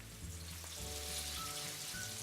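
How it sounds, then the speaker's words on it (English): Steady crackling sizzle of Russian/Ukrainian meat patties frying in hot oil, a dense hiss of tiny pops throughout with a low hum underneath. "It needs to sizzle as soon as it hits the oil."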